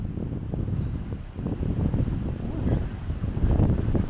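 Steady wind buffeting the microphone outdoors above a valley along Hadrian's Wall, a loud low rumble that swells and gusts throughout without pause.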